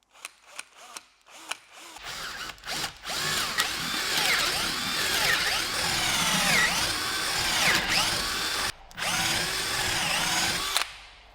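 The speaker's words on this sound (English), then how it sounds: "I'm gonna grab a drill and drill a hole through here" A power drill whirs steadily for several seconds after a few short clicks and bumps, pausing briefly once before spinning up again, close and loud, drilling through a laminated sailboat frame.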